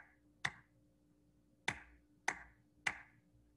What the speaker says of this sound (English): So you can hear exactly what you clapped